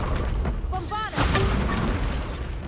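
A Bombarda blasting spell cast in a Harry Potter game set in a haunted Hogsmeade shop goes off as a sudden booming burst. It is preceded by shimmering magical whooshes and leaves a rumbling tail over game noise and a voice.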